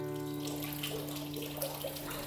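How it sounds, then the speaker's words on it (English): A small bubbling pond at the entrance of a terrace house gives off a soft, steady trickle of running water with no break, faint and close, over a low background hum. "The entrance greets you with quiet charm in a small bubbling pond."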